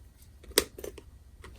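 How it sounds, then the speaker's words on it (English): Die cutting a dinosaur shape from paper for a gift box topper, a single sharp crunch followed by a few softer clicks and rustles, close and fairly quiet. "And now we'll get the die, and we'll cut him out."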